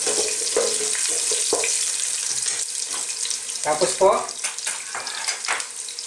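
Squash added to garlic and ginger frying in a pan for Filipino ginataang isda gives a steady loud sizzle with scraping and stirring clatter, and a voice speaks briefly over it.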